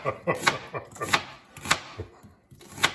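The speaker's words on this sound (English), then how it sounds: "we're just gonna slice these up." Knife slicing through onions on a cutting board, each cut a sharp chop against the board in an irregular rhythm of about eight strokes, close and clear with no talking.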